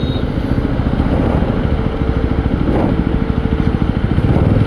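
A Yezdi Roadster motorcycle engine thumps loudly and rhythmically up close while being ridden off-road in third gear, a continuous pulsing throb that holds steady throughout.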